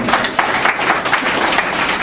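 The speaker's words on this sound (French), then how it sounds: "Est-ce qu'on peut encore applaudir très fort Jacques?" Audience at an organisation's activity report meeting applauds the speaker Jacques, a lively burst of many hands clapping close by, uneven and textured, with no talk over it.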